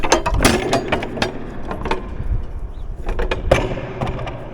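A heavy metal door inside a tall 132-foot grain silo is worked open, giving a run of clanking, ratcheting mechanical knocks and scrapes that ring loudly and close throughout.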